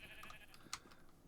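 A sheep bleats faintly in the Minecraft modpack Enigmatica 6, a short, thin bleat rising over quiet game ambience, alone and without talk.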